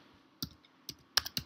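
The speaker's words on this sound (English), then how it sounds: "I can type ntopng Milan one more time." A handful of crisp, close keystrokes on a computer keyboard, typed in short irregular bursts of about five clicks over a quiet background.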